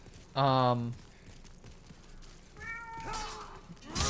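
A pet cat meows up close, with one loud, drawn-out meow followed by a couple of shorter, higher meows a few seconds later, all over quiet background noise.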